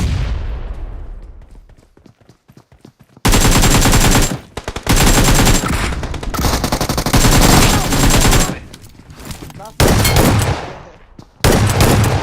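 Heavy video-game shotgun fire roars out in loud, dense bursts with brief gaps between volleys, sharp blasts repeating over roughly nine seconds after a fading echo tail at the start.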